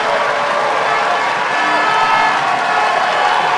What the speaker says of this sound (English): listen to the sound of the crowd there